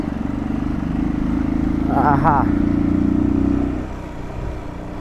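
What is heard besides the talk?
motorcycle being ridden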